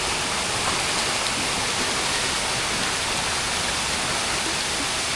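Rushing water pours steadily at Cholamala waterfall in Wayanad, Kerala, a loud, dense, unbroken roar close by with no voices over it.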